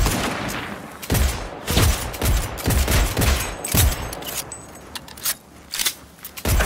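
Gunfire in Cyberpunk 2077, a rapid series of loud close gunshots in uneven bursts and single cracks, some fast automatic volleys, with sparse pauses between shots.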